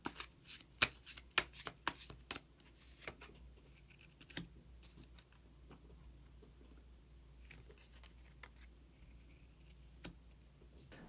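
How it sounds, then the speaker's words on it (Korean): Tarot cards shuffled and drawn by hand, a quick burst of crisp riffling snaps and slaps at first, then softer sporadic card taps and slides, close and quiet with no voices. "그러면 히든 카드를 한 장 더 뽑아보도록 하겠습니다."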